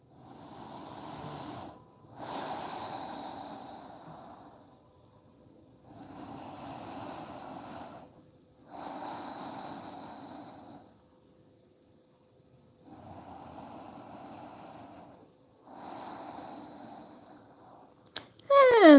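Slow, deliberate nasal breathing during a yoga balance pose, long airy inhales and exhales alternating in an even rhythm of about six cycles, close and steady with no talk.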